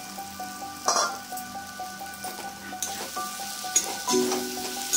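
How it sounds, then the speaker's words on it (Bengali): Fried potatoes go into a pan of bhetki fish curry with kasuri methi, giving a soft sizzle with occasional clinks and stirring knocks, close and moderately quiet, with a faint tonal background. "আলুগুলো দিয়ে দেবো ভাজা আলুগুলো"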